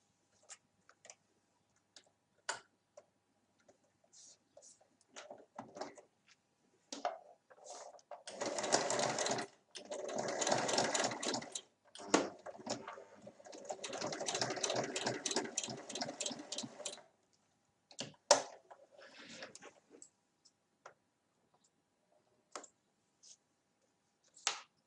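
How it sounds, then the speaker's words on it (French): Sewing machine topstitches a half-moon zip pouch at a 1 mm margin, in short bursts of close, steady stitching broken by pauses and scattered clicks, with no talk. "Et là, je vais venir faire une surpiqûre à 1 mm."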